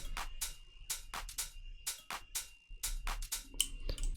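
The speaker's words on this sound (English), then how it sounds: "and some drum loops like this" A busy deep house drum loop of quick, crisp hits in a steady rhythm, bright and close with a constant faint hum underneath and no talking.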